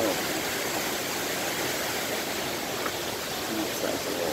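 Creek and waterfall beside a boardwalk outside the Woodlands hotel in Wilkes-Barre, Pennsylvania, a constant dense rush of falling water, close and steady throughout with no voices.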